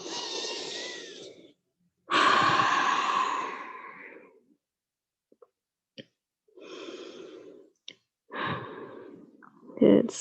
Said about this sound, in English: Exhale here.